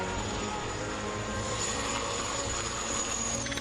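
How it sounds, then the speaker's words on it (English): A Lama helicopter's engine and rotor roar continuously and loudly on an Antarctic expedition, a dense steady drone with no other sounds standing out. "The Lama helicopter joined us an hour after we left port."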